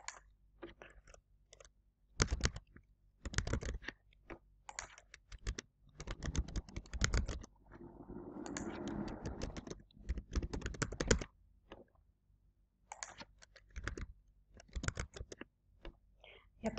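Someone types a question on a computer keyboard, producing soft, close keystroke clicks in irregular bursts with short pauses and a brief stretch of low background noise partway through.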